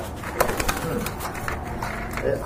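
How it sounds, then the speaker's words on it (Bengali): A pair of pigeons for sale, including a large female, gives soft coos near the microphone amid market bustle and faint voices. "এটা কিন্তু মাশাআল্লাহ খুবই সুন্দর মাদি কবুতর, অনেক বড় সাইজ"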